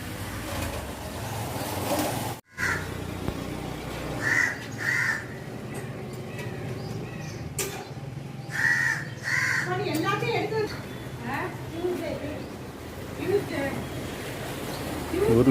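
A crow caws repeatedly near its nest of chicks, the harsh calls coming in short bursts over steady outdoor background noise, with someone talking throughout.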